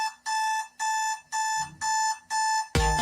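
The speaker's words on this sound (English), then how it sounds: "The alarm goes off, it's time for school again." An alarm clock rings in five regular beeping bursts separated by short gaps, clear and fairly close, cut off at the end by a louder jumble of sound.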